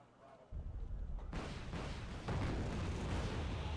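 Video game missiles launch with a deep rumbling boom and sustained roar that builds, a second heavier blast landing midway, loud and continuous with no talking.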